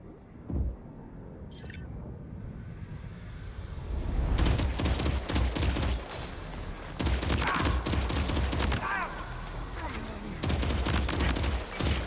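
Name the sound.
gunfire in the video game Death Stranding 2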